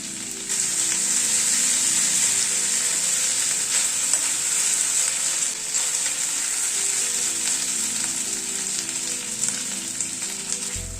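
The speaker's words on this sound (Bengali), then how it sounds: "আদা রসুন কাঁচা লঙ্কাটাকে মিনিট খানেক জাস্ট একটু নাড়াচাড়া করে নিলাম" Ginger, garlic and green chilli paste fry in hot oil while being stirred for a chicken dish, a loud, steady sizzle with a bright hiss running unbroken throughout and no voices.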